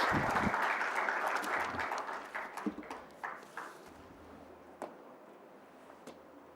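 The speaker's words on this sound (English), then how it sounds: "Please give her a big round of applause." An audience at an international Olympic research conference applauds a speaker, starting with a full burst of clapping that quickly thins to scattered, fading claps and then a few isolated last ones.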